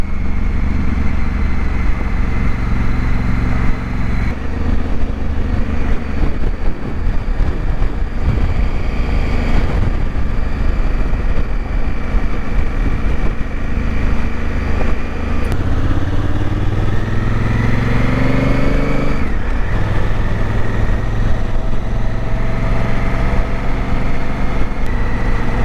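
A Honda Africa Twin motorcycle rides a gravel road, its engine droning loud and steady throughout with wind buffeting the microphone and the pitch rising and falling as it shifts gears.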